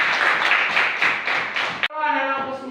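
Students in a classroom clap together in a quick, rhythmic burst of close, loud hand claps lasting a couple of seconds, then a teacher's voice begins speaking.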